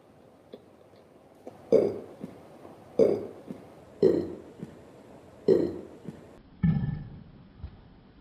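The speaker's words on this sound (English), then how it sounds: "Sorry for burping." A person burps five times in a row, loud and close, each a short deep croak about a second apart, the last one longer and lower, with no talking between them.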